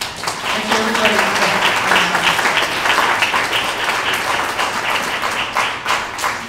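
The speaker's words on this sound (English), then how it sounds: "let's get a warm round of applause for Elliot" Warm audience applause for Elliot at the close of a talk, a dense, steady round of clapping from a room full of people that fades slightly at the end.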